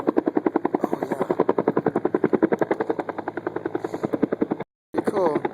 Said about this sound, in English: It's a helicopter at Folsom Lake today, picking up water for a fire.